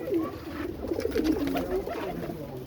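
A pair of pigeons cooing softly and continuously amid faint background noise, moderately close, with no talking.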